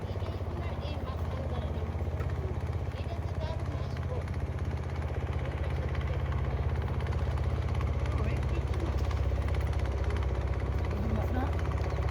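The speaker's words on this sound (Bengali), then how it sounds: "এই লঞ্চের এই নৌকার আওয়াজগুলো ভালোই লাগে না" A motor launch boat on a river drones with a steady low engine rumble for the whole stretch. Indistinct voices murmur faintly underneath.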